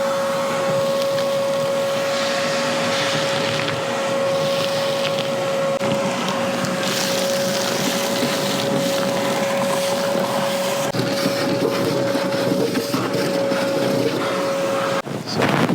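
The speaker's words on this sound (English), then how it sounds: "Looks like I need to get the vacuum back out." A vacuum cleaner runs steadily and loudly while cleaning out a Bobcat T870 compact track loader, a constant droning hum with a high whine, with brief changes in pitch as the nozzle moves near the end.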